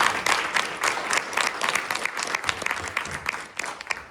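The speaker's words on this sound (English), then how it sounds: "Give him a round of applause, everybody." Applause from the audience at a leadership and sales talk, a moderate burst of many hands clapping that stays fairly even and tapers slightly toward the end, with no voices on top.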